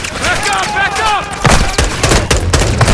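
Gunfire in Call of Duty Modern Warfare 2 (2022), with loud, dense bursts of automatic weapon fire and sharp shots up close while soldiers shout over the firefight.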